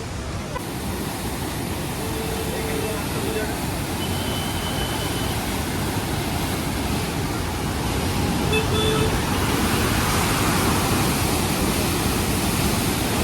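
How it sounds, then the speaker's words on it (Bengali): Water roars steadily through an open gate of the Durgapur Barrage, a loud continuous rushing wash with no break. "পুরো সব থেকে বেশি জল মনে হচ্ছে এইখানেই ছেড়েছে, ঠিক আছে, এই গেটটা"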